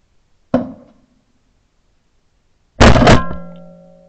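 Shotguns fire while quail hunting in Pakistan. A sharp shot rings out, then after about two seconds a second, louder blast follows with a ringing metallic tail, both close, in an otherwise quiet outdoor setting.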